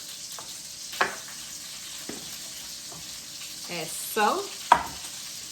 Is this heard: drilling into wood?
no